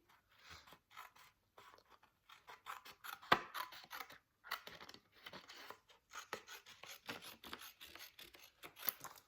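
Scissors cut paper for a scrapbook folio, a faint series of short, crisp snips and rustles close by, irregularly spaced with small pauses between cuts.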